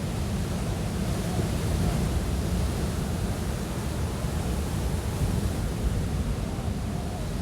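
Ocean waves and surf roar in a continuous, full wash of noise, steady and enveloping, heard alone without voices.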